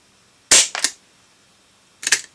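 A forty-year-old Crosman air rifle fires over a chronograph. One sharp crack comes with a quick follow-on snap, then after a short silence a second shot cracks, near and loud.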